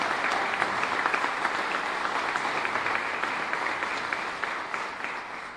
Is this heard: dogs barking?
no